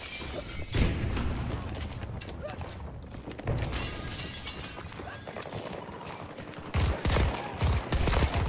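Gunfire in the Battlefield 2042 video game, sharp shots and short bursts mixed with clattering impacts and rapid mechanical noise, with a loud flurry near the end.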